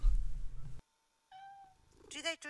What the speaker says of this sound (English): What do cats think when they blankly stare at the wall and frantically meow at 3 in the morning?